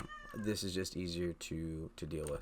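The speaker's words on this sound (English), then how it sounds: "By the way, that was my cat." A house cat meows under a man's continuous nearby speech, its brief calls rising over his talk at the start and end.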